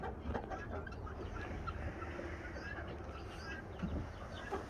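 A mother hen and her chicks cluck and peep in a coop, a steady low murmur of fowl calls over a dense, noisy farmyard background with no clear talk.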